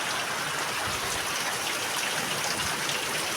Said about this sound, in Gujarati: વરસાદ ચાલુ થઈ ગયો છે પાટડીની અંદર